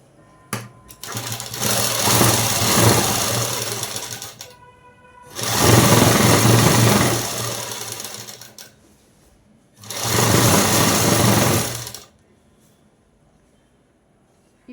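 A sewing machine stitches fabric in three separate runs of rapid, close mechanical chatter, each lasting a few seconds, with quiet pauses between them.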